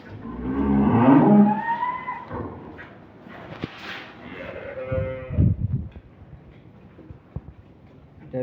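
A purebred Holstein Friesian dairy cow at a farm sale lets out a long, loud moo up close, followed by a second, shorter lowing call and some scattered knocks in the shed.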